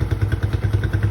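A small kids' quad ATV engine runs nearby with a steady, pulsing putter and no talking.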